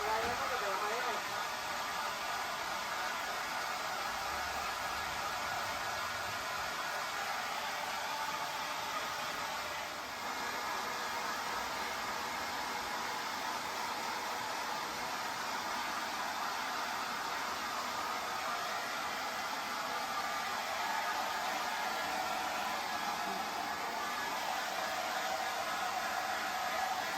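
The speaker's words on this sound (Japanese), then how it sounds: "時間かかるって、ドライヤーかけたら早い" A hair dryer blows steadily and loudly on a long-haired cat's fur during its shedding season, a constant whooshing hiss with no pauses, while people talk quietly beneath it.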